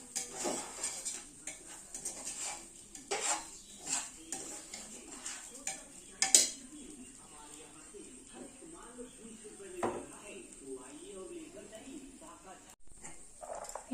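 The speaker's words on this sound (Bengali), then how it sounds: "আবারও ভালো করে মিশিয়ে নেবো ডালে আর চালে" A spoon stirs soaked lentils and rice together in a metal pot, with repeated scraping and clinking against the sides and a voice talking now and then.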